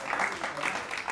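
A studio audience applauds steadily and densely throughout, a continuous wash of clapping with possible voices mixed underneath.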